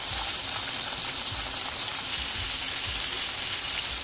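Soft bele fish fry gently in a pan with a steady, dense sizzle and crackle that continues without a break. No one speaks.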